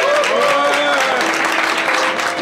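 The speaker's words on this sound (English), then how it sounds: "Give a big round of applause." A crowd at a Warcraft 3 WC3L Season 4 Finals esports event claps steadily in a dense wash of applause, fairly loud and continuous throughout.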